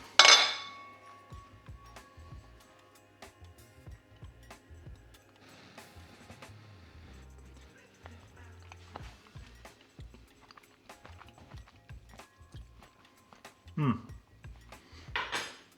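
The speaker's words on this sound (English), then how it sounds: "Make sure you get right to the bottom when you're stirring this." A spoon stirring vegetarian lasagne sauce in a pot scrapes and clinks against the metal at close range, in scattered knocks with quiet gaps and a sharper rattle near the end.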